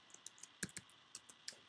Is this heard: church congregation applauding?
no